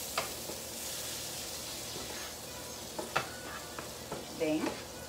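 Beaten egg poured over green peppers and onion sizzles in a frying pan for an omelette, a steady close hiss throughout with a few light scrapes and taps.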